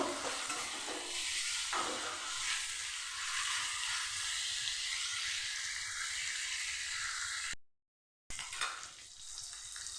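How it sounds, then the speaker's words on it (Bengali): A hilsa fish head fries in hot oil in a pan, giving a steady, close sizzle with stirring scrapes throughout, briefly cutting out near the end before resuming. "ইলিশ মাছের আমি ভালোভাবে ভেজে নেবো"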